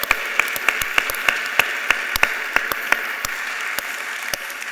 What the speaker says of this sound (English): One more round of applause for all three of those.